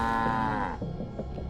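Cows mooing in the game StarCraft II, one long drawn-out low moo that slides downward, followed by a few softer grunting lows, fairly close and clear.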